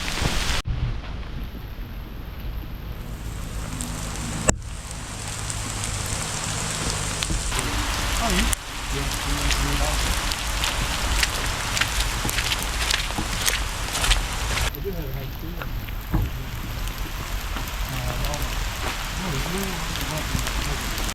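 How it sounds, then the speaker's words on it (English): Steady rain falling through a Central Coast redgum forest during a bushwalk, a continuous broadband hiss of drops on leaves and ground that runs the whole time, with brief interruptions and faint rumble beneath. "It's raining again."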